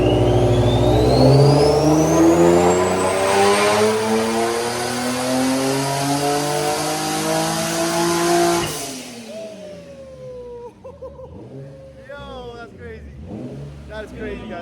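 A turbocharged Infiniti G35 coupe revs hard, engine pitch climbing with a rising turbo whistle for several seconds, then cutting off abruptly; afterward someone talks excitedly over quieter background noise.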